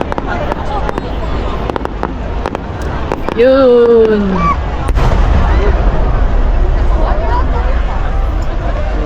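Fireworks bursting at a fireworks festival in Japan, heard from a distance as a series of booming pops and crackles under a crowd's steady murmur, with one rising whistle-like tone midway and people talking throughout.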